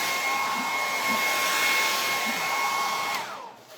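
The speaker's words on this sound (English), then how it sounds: "I realised you can't hear me when the dryer's on" A hair dryer blowing with a steady high whine and rushing air, then switching off and winding down near the end.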